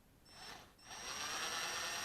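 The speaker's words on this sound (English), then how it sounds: "Slow drill, keep it tidy," A power drill turns slowly through the plastic casing of a second-generation Ring contact sensor, making a close, steady whine that rises after a brief dip and then holds with no talk.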